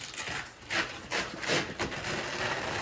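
A washable Ruggable rug being peeled up from its Velcro grip mat, giving several rough ripping, scratchy tears in bursts about every half second, close and moderately quiet with no talking.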